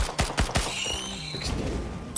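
Quick-firing spread-shot special attack of the Nemesis Commando in Risk of Rain 2 with the Starstorm 2 mod: three sharp, punchy blasts in quick succession up front, followed by a ringing metallic tail and a faint later zap.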